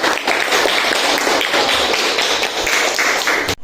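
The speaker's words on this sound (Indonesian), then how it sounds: "kasih aplaus untuk semuanya" A classroom of schoolchildren breaks into steady, dense applause, loud and close, with the clapping running unbroken for several seconds before stopping abruptly.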